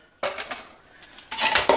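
Cast iron pans being handled in a kitchen during decluttering, giving two bursts of loud metallic clanking and scraping close by, separated by a quieter pause, with no talking.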